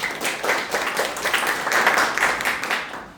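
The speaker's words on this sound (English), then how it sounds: "you can clap right now. Start clapping." An audience claps freely and unevenly, many hands overlapping in a dense, steady wash of applause at close range, with no voice over it.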